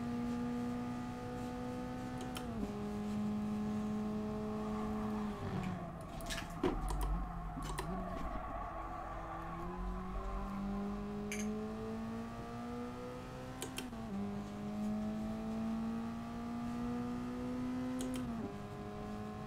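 Race car engine in Gran Turismo Sport, a steady loud drone with a drop in pitch around mid-run as the car brakes and changes gear, then climbing revs again, alone without talk.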